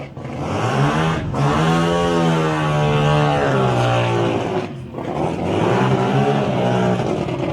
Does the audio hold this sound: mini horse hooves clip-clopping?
no